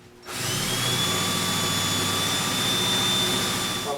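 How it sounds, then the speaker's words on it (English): A power drill with a brad point bit bores a hole in wood for a display cabinet, starting abruptly and running as a loud steady high whine with a grinding undertone for several seconds, close and alone. "I'll line up the brad point of the drill with the mark from the dowel center"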